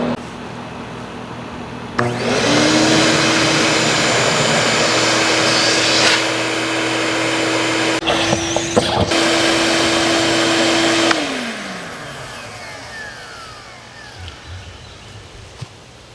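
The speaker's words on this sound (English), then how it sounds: "Sucked it right into the vacuum too." A shop vacuum draws a pull string through electrical conduit, switching on with a loud, steady whine that holds for about nine seconds, then winds down and trails off into quiet.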